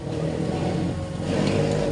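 Car speeding past on a rain-soaked road, a steady broadband engine and tire-wash roar that swells slightly toward the end, heard close with rain noise and no talking.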